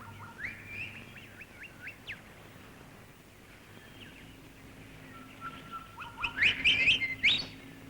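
Several forest birds call and chirp in short repeated bursts, some sharp and rising, over a low background hum, with a busier flurry of calls near the end.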